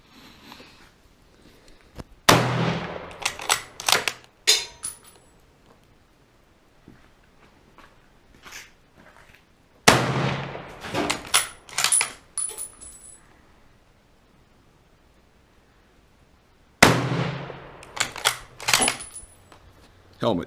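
A WW1-era 1918 Rock Island 1903 rifle in .30-06 fires three sharp, loud shots about seven seconds apart, each followed by a brief scatter of metallic clinks and rattles.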